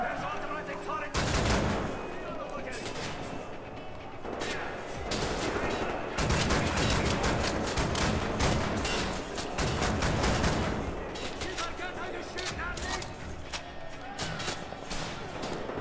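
Dense, loud gunfire from Wolfenstein: The New Order fills the stretch, rapid automatic bursts packed together with brief lulls, a voice talking over the shooting at points.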